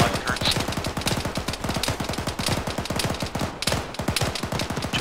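Rapid automatic gunfire crackles nonstop in the military shooter Arma, dense overlapping bursts of rounds at close range, loud and sustained with a momentary gap before the firing resumes.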